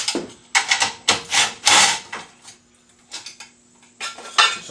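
An extra guard being removed from an Inferno clutch: close, irregular metallic clatter, with bursts of knocks and rattles separated by brief pauses and no voices.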